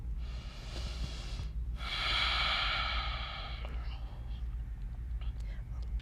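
Deep, slow breathing in and out through the nose during a yoga flow, one long breath filling the middle of the clip, with softer breaths after it, close and steady.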